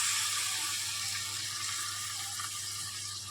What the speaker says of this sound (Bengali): এবারে আমি এটার মধ্যে সামান্য পরিমাণ একটুখানি জল দিয়ে দেবো।